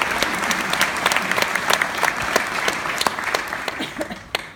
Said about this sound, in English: So give a round of applause for the Happy Mother's Day to all the moms.